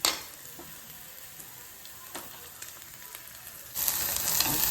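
Okra stir-fry frying in a pan, a soft steady sizzle with faint stirring taps, ending in a sudden louder burst of hissing sizzle near the close.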